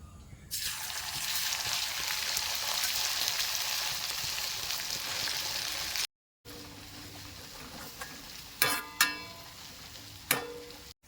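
Crushed ginger sizzles steadily in hot coconut oil in a pan, a loud continuous frying hiss for about six seconds, then quieter bubbling with a few sharp clinks of a utensil against the pan.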